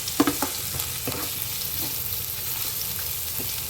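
Ginger garlic paste frying in a pan, a steady soft sizzle up close, with a few quick stirring scrapes near the start.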